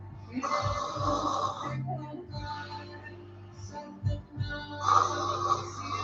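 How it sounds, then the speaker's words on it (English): Deep, rasping snore-like breaths forced through a constricted throat during a Kundalini yoga breathing exercise, several loud drawn-out exhalations close by with short pauses between. "See if you can do a little bit more constriction in the back of the throat. It's almost like a ujjayi breath, but it's a deep snore."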